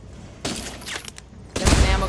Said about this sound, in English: I just gotta shoot it.